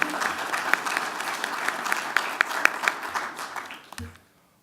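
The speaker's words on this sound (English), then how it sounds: "So round of applause for Ms. Brooke Pressler" Audience applause fills a school board meeting room, a dense steady patter of many hands clapping for several seconds before stopping abruptly, leaving near silence at the end.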